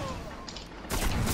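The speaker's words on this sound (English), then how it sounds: "Oh, we exchanged shots." Gunfire in the Destiny video game: a rumbling lull, then a sudden loud burst of rapid shots that keeps crackling to the end.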